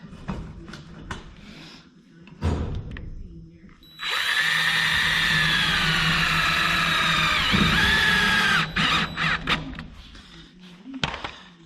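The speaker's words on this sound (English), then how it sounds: "what I'm doing is just running a temporary self-tapper in here" A power drill drives a temporary self-tapping screw into a greenhouse frame, a loud steady whine lasting about five seconds with a brief dip in pitch, framed by clunks and handling knocks before and after.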